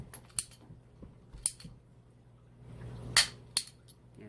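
Sharp snips and clicks from cheap cutters biting through a 4-inch PVC pipe piece, a handful of separate crisp snaps spaced over a few seconds, close and fairly quiet.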